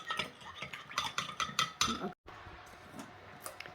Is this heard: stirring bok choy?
yes